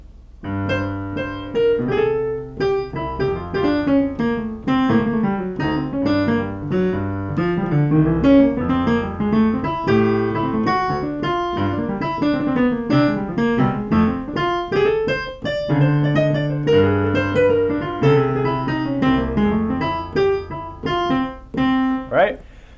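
Solo piano plays a continuous run of bebop two-five progressions, busy chords and quick melodic lines, moderately loud, with no talking.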